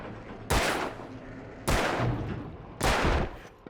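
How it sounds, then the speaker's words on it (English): Three loud, sharp gunshots ring out at roughly even intervals, each with a short decaying tail, as chains are shot in the video game Alan Wake. "Just shoot the chains"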